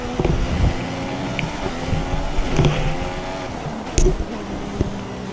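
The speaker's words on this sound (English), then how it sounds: "I'm trying to keep close to Alonso in this McLaren Honda engine" In the F1 2016 racing game, a McLaren Honda Formula One car's engine drones continuously with a steady harmonic whine, close and loud, with a few brief thumps and shifts layered over it.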